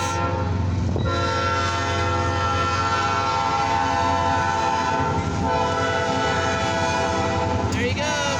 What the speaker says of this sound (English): I can hear the roar of the CFE train.